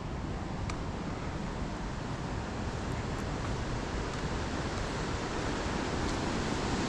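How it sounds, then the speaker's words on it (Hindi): The Chenab River in Udaipur, Himachal Pradesh, runs at full flow, a continuous broadband rush of water, even and fairly faint from a distance, with no voices. "ये बह रही है चिनाब नदी"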